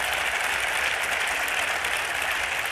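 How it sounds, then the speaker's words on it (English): At a university press conference introducing a new football coach, the crowd breaks into loud, continuous applause, a uniform dense clatter of many hands with no pauses. "Give yourself a round of applause for being here."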